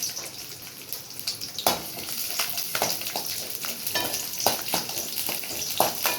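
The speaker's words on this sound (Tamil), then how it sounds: "கொஞ்சம் எண்ணெய் ஊற்றி கொஞ்சம் பூண்டு போட்டுக்கலாம்." Garlic cloves fry in hot oil in a pan for a Tamil garlic curry, giving a close, continuous crackling sizzle. Sharp scrapes and clicks of stirring come at irregular intervals, and nobody speaks.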